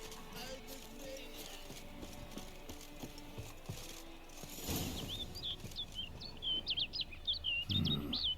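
Bird calls in The Witcher 3: Blood and Wine, a series of bright chirps and tweets rising in the second half over steady outdoor ambience with faint rustling.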